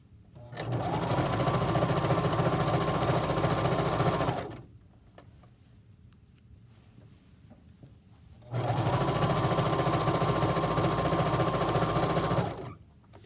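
A sewing machine stitches a pillowcase in two long, loud runs of fast mechanical whirring, each about four seconds, split by a quiet pause.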